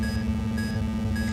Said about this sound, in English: Does a little reversing beep.